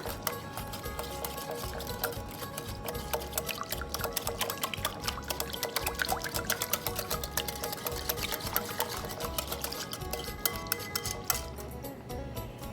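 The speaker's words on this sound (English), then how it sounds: "I added a cup and a half of half and half. And I just mix all of these together now." Sauce ingredients for chicken and shrimp pad thai being mixed with a cup and a half of half and half: a steady, busy rattle of clinking and sloshing that continues throughout without pause, with no talking.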